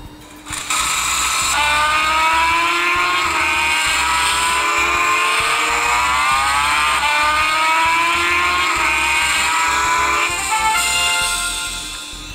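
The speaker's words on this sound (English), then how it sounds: "Now let's try another game, the Racing Moto, which is a motion based game" Racing Moto, a motion-controlled motorcycle racing game, playing on a Fly F45S smartphone: a loud, continuous whining engine drone that rises and falls in pitch with gear changes for about ten seconds, heard alone.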